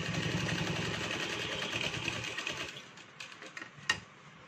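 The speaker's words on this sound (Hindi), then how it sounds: "तो अब इसके ऊपर हम सिलाई लगा देते हैं।" A sewing machine runs steadily while stitching a fabric bow, a close, even mechanical whir that stops partway through, followed by a few small handling clicks.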